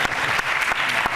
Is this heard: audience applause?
yes